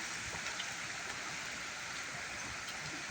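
Strong floodwater from overflowing irrigation rushes continuously in a dense, roaring wash, loud and steady throughout with no break.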